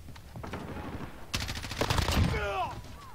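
Automatic and single gunshots from a Call of Duty: Modern Warfare multiplayer match with an M4 loadout, rapid cracking bursts growing louder and denser midway, with whizzing ricochet-like tones near the end.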